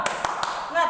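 Children in a classroom clap together in a few sharp, evenly spaced claps, followed by a brief moment of voices.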